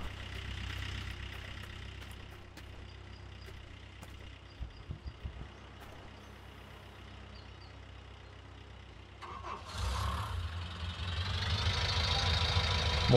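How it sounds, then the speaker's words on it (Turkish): An articulated backhoe loader engine in the Gold Rush video game idles low and steady, then grows louder and rougher toward the end as it revs up. "Motor sesleri farklı ve hoş."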